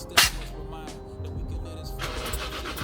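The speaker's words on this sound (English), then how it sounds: "Now we just start the car and see how it goes." A Toyota JZX100 engine cranks with a sharp burst, then catches and settles into a steady low idle rumble that continues to the end, close and fairly loud.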